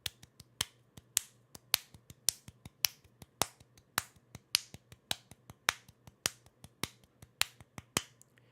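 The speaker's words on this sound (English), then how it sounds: "The little claps are like in between notes." Small sharp claps, close and dry, tap out a steady 6/8 rhythm, with accented beats and lighter in-between claps repeating evenly with no voices.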